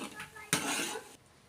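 Jaggery syrup being stirred in a pan while it boils, with a spoon clattering and scraping against the metal in one close burst of stirring before it quiets.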